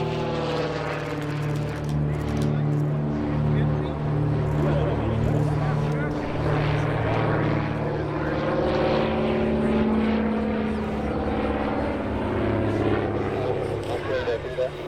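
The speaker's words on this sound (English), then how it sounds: "This is a Beech Baron, which isn't usually considered an airshow performer, but it's flown here by David Martin." A Beech Baron twin-engine propeller airplane performing at the EAA AirVenture Oshkosh 2018 airshow, its steady, loud, droning engine hum continuing throughout, with a voice speaking over it.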